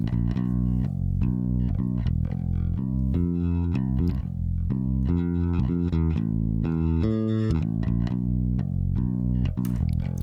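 Live electric bass played by a session bassist, replacing a keyboard bass line in a tune made with a Grammy-nominated artist, runs as a steady, loud melodic line with expressive fills for the whole stretch, alone with no talking.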